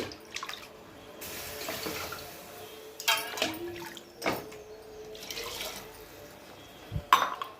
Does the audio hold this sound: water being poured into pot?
yes